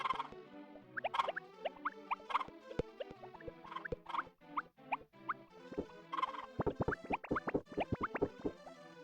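Chickens cluck in the Harvest Moon: Back to Nature farming game, with short choppy calls and pecking pops coming in quick bursts over light game music, fairly close and clear.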